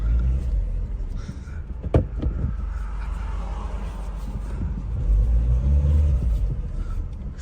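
A Volkswagen Polo rolling off a stone, a close low engine rumble with a sharp knock near the start and a swell of engine noise toward the end.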